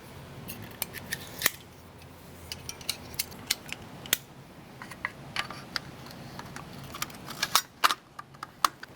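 Action screws on a custom 7mm PRC rifle being torqued down with a driver: a quiet workshop with scattered sharp metallic clicks and ticks, irregular and close, with a few louder snaps.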